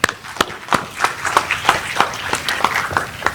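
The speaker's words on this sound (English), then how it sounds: "All right, clap it up." Scattered applause from a school board meeting audience, a modest group clapping unevenly in a room for a few seconds.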